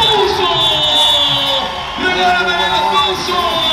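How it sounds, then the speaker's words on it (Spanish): Rodeo crowd at a ranch event in Oaxaca, Mexico, loudly cheering, whooping and clapping in a dense, sustained roar, with an announcer's amplified voice talking over it. "¡Fuerte el aplauso!"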